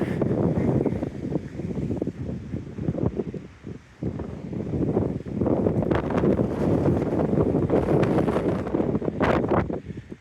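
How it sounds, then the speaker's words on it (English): Strong wind buffets the microphone throughout, a continuous loud low roar with gusty surges and a brief dip midway. "Very windy, I'm afraid."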